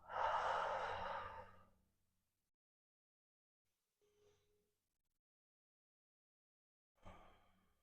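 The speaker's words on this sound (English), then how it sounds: "start to slow down the breath, taking deep inhales and slow exhales" A slow, deep breath during seated yoga relaxation, a long audible exhale near the microphone, then quiet, a faint small sound, and another breath beginning at the end.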